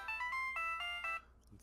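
A phone ringtone chirps through a speakerphone call in repeated bright electronic bursts, fairly faint and thin, ending with a brief click and no speech over it.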